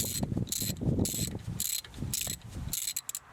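Ratchet clicking in quick bursts while removing the cover-plate bolts on a tractor during a PTO seal replacement, close and fairly loud, with short pauses between runs of clicks.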